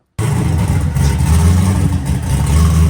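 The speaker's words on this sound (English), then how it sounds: "Who don't like a camshaft chopping some trees down?" A turbocharged Ford 363 stroker V8 with an aggressive camshaft idles loud and close after starting abruptly, a deep uneven lumpy rumble that lopes steadily throughout.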